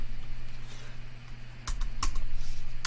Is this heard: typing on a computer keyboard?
yes